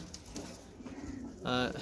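Pankhi (fantail) pigeons coo softly in a quiet loft, with one short, clearer call near the end over a faint, murmuring background.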